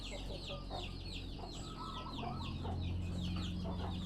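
A young hen of a Gosem fighting-cock bloodline clucks in short, repeated calls close by, over a steady low background hum.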